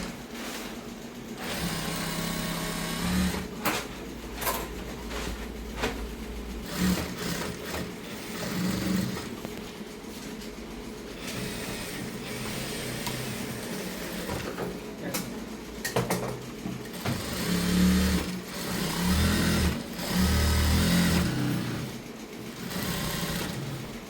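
A sewing machine stitching a folded dress seam, running in a steady mechanical whir that revs in bursts and pauses between runs, close up, with no talk.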